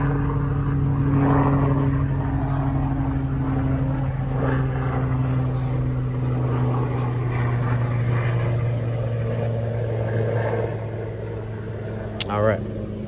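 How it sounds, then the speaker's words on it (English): A helicopter passes overhead, its steady loud rotor and engine drone filling the whole stretch with a low hum, while a person talks beneath it. "sorry, there's a helicopter."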